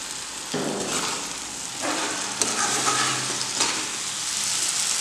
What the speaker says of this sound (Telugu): ఇప్పుడు కొద్దిగా వాటర్ యాడ్ చేసి ఉడికించుకోవాలి